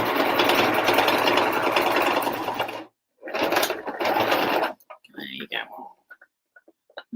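A sewing machine stitches the fabric edges of a bucket hat, running in a loud, close, steady whir for about three seconds, stopping, then whirring again briefly, with voices heard afterward.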